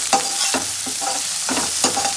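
Vegetables for cauliflower (gobi) fried rice sizzle in a hot pan as a spatula stirs and tosses them, giving a continuous crackle broken by quick, regular scraping strokes close by.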